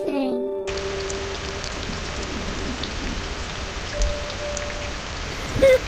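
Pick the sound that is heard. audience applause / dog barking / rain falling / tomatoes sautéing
rain falling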